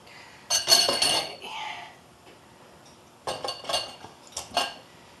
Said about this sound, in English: Let's get a little spatula and get all that goodness out of there.